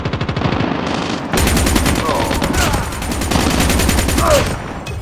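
Rapid, sustained automatic fire from a RazorBack SMG in the mobile shooter Call of Duty Mobile, loud bursts rattling continuously across the whole stretch with brief shifts in intensity.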